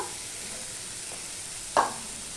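Finely chopped potatoes dropped into a hot pan for a fish egg dish: a steady background sizzle with a brief sharp hit and splatter near the end.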